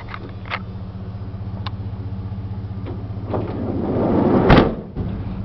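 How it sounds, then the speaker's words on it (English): A Dodge work van with shelves, a cage and racks has its side sliding door worked: a few light clicks and taps over a steady engine idle, building to a loud rolling slide and a heavy thud near the end. "Sliding door."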